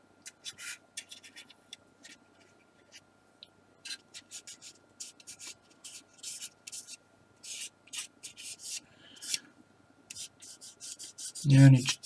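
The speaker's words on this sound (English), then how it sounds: "you are better off just peeling it off in one, rolling your thumb around and just rubbing it off" A thumb rolling and rubbing masking material off a freshly airbrushed miniature, producing faint, intermittent close scratchy rubs with quiet pauses between, ending in a louder bump.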